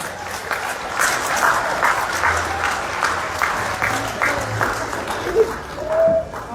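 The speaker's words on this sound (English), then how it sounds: "Give them a round of applause" Audience clapping at a police training closing ceremony, a steady round of applause from a seated crowd with a few louder claps standing out near the end.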